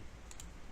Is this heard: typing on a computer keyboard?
yes